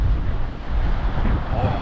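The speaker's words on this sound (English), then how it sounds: "So wind's hitting this way." Steady wind buffets the microphone at a local trout pond, a continuous low rumbling roar with gusty swells throughout.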